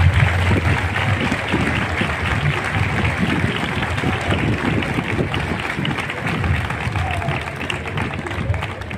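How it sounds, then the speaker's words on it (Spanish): Dense, steady applause from a large crowd at a street rally in Tomelloso calling for a hospital ICU, a loud, sustained roar of many hands with some murmur of voices and no break across the whole stretch. "El aplauso primero para el pueblo de Tomelloso."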